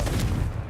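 A Confringo spell blast in the wizarding game Hogwarts Legacy lands as a single short, heavy, rumbling boom that quickly fades away.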